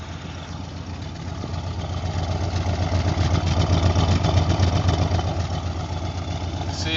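A 1980 Corvette engine idling steadily, a continuous low rumbling throb heard close, gradually growing slightly louder, with no talk.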